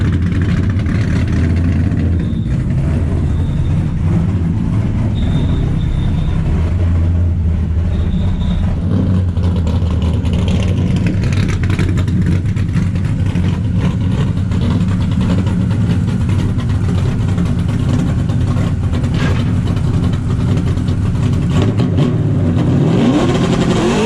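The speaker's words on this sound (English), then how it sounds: "This thing just sounds so good on the two-step." A drift car with nitrous sits on a two-step launch limiter, its engine roaring loud and close without a break, revs rising and falling with choppy limiter bursts.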